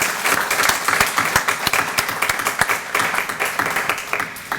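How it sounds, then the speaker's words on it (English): An audience claps for a program contributor at a startup pitch showcase, a steady patter of many hands that thins into scattered, separate claps toward the end, with no voices. "So a round of applause for him."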